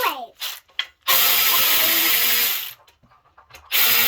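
A battery-powered ratchet spins a nut on a truck in loud, close bursts, with a long whirring run between shorter clicks and pauses, ending on another burst.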